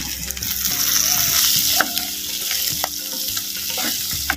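Green chillies and onion frying in hot oil for a Kerala-style fish curry, a steady close sizzle running throughout with occasional sharp clicks and taps, no talking.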